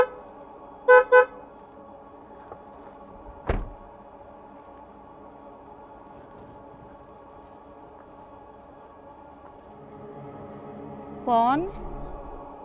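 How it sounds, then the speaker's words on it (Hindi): Two short car horn toots sound close together near the start, followed by quiet night ambience with faint insect chirping and a low hum, and a brief wavering tone near the end. "गाड़ी का हॉर्न दे के इनको बुलाते हैं।"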